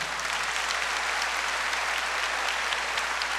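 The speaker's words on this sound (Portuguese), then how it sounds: "Vamos aplaudir isso com alegria." An audience at a church pastoral gathering claps in dense, sustained applause, an even crackling wash of many hands heard alone without talk.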